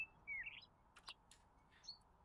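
Birds chirp outdoors in short, high, scattered tweets, faint and somewhat distant, over quiet background noise with no talking.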